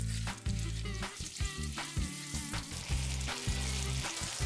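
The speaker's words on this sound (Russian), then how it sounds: "А теперь обжарим яблоки с сахаром на сливочном масле." Apple slices fry with sugar in butter in a skillet, a loud continuous close sizzle with bubbling crackle and occasional stirring scrapes, no voices.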